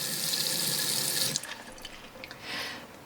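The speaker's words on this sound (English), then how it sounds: "I'm probably going to give these twice scrub over to make sure that all the dirt is really off of there" Tap water runs into a sink while pine cones are scrubbed clean, a close steady rush that cuts off partway, followed by drips and splashy handling sounds.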